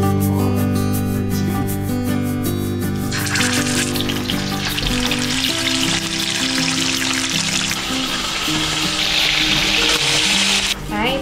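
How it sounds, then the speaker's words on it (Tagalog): Galunggong fish frying in a pan, a steady close hiss and crackle of hot oil running throughout, growing brighter and denser partway through, with background music-like tones beneath. "Magluluto na ako ng pritong galunggong."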